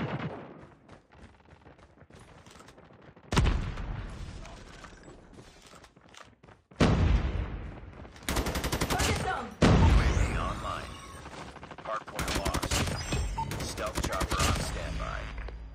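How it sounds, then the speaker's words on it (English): M4 rifle gunfire in a first-person shooter game comes in sharp bursts of rapid shots, loud and close, separated by quieter stretches of game sounds. "I'm just shooting in the direction, hoping to hit someone there."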